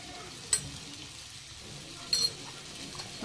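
Pointed gourd pieces with turmeric and salt frying in a pan, a soft, quiet sizzle with two brief clinks of a spatula against the pan.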